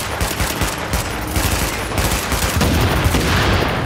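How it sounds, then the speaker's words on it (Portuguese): Sustained gunfire and explosive bursts from a firefight in the video game The Division, a dense continuous barrage with rapid overlapping shots throughout, loud and close with no voices. "Então, vou botar uma granada lá."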